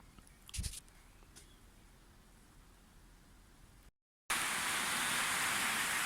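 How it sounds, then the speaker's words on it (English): Heavy rain pours outside as a dense, steady broadband roar that comes in loudly after a brief silence, preceded by a quieter rushing background with a couple of short knocks. "It's pouring rain again."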